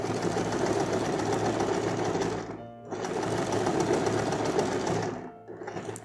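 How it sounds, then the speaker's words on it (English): A sewing machine runs steadily while stitching a seam, its close, even whirring mechanical hum pausing briefly twice before starting up again. "Sew a few stitches, go back, and then start to sew."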